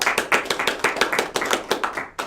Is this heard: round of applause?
yes